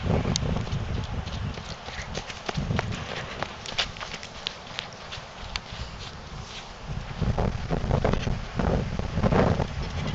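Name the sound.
horses walking, hooves clip-clopping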